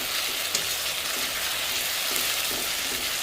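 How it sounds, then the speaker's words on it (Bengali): A spice paste of tomato, chili, ginger and garlic sautés in a pan for a mutton dish, giving a dense, even sizzle with soft spattering and faint stirring scrapes, close and continuous with no talking. "এবার মশলাটাকে ভালো করে কষিয়ে নেব"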